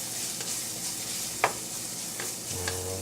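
Spices heat in a pan with a soft continuous sizzle, marked by a sharp stir or clink midway and a couple of lighter taps, close and fairly quiet with no talking.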